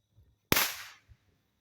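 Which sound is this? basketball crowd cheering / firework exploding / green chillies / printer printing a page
firework exploding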